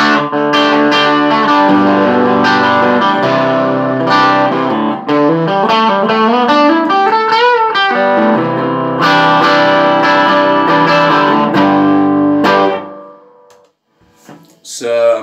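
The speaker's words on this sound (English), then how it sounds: "So that's the neck, this is the bridge, a bit brighter." Distorted electric guitar on the bridge pickup through an AXL T-15 valve hybrid combo amp, bright and loud, with chords and sliding, bending notes, plus heavy effects and reverb, ending in a few sparse plucks.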